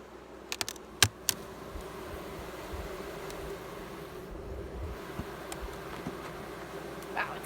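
Honeybees hum in an open beehive, a steady, low, close buzz that carries throughout, with a few sharp clicks near the start and no talking.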